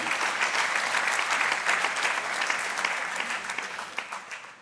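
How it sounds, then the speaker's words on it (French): An audience at a regional social conference round table applauds its four guest speakers, a steady wash of many hands clapping that gradually thins and fades toward the end. "Donc on peut les applaudir, nos quatre grands témoins."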